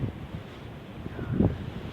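Strong outdoor wind buffets the microphone, making a steady low rumble that swells in a louder gust near the end, with no voices.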